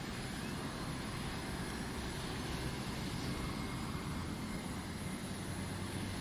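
An aircraft in the Carrier Command 2 video game flies past a carrier, a continuous dense engine roar, steady and fairly loud throughout, with no talk.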